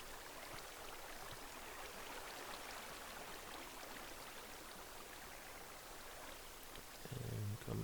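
Flowing water in Minecraft, a steady soft wash of rushing, stream-like noise that runs evenly throughout, quiet and continuous, ending with a brief low thump.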